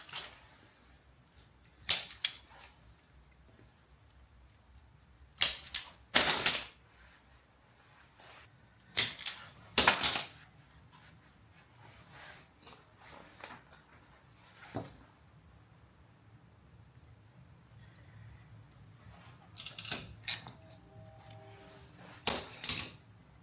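A fuse holder being crimped onto wire with a crimping tool while fitting dual condenser fans to a Land Rover Discovery 2: several sharp, close clicks and squeezes at irregular intervals over quiet background.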